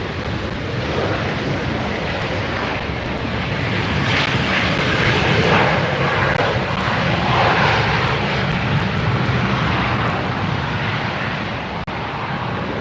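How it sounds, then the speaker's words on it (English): A Delta jet airliner arriving at LAX roars loud and close, building to a peak near the middle and then holding a steady, strong engine rush to the end. "The Delta arrival."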